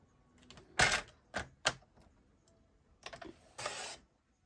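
Cardstock is cut diagonally in a few crisp, close snips and slicing strokes, separated by brief quiet gaps, with no voices.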